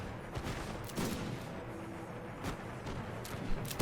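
Repeated musket volleys from three regiments firing at full rate in an American Revolution battle video game, crackling gunfire bursts at an irregular rhythm over a steady din of distant shots.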